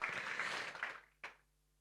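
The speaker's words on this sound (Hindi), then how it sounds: "if you feel you are lucky, then तालियां बजाओ" Students at a Sri Chaitanya Academy centre opening in Nagpur give a dense burst of hand clapping that fades out after about a second, followed by one last sharp clap and quiet.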